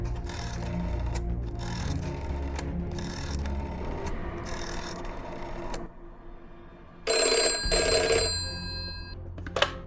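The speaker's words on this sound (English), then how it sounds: "Ringing the police department." A telephone bell rings in a burst near the end of a call placed to the police department, following a stretch of repetitive mechanical clicking from an old-style switchboard or dialing.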